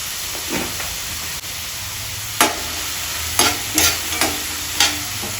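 Cashew pieces fry with green peas and large green chillies in a pan, a steady close sizzle broken by several sharp stirring scrapes and clatters.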